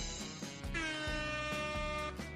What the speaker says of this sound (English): Give myself a couple of air horns and an applause.